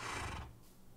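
A horse in the game Minecraft gives a single short, loud whinny that fades within half a second.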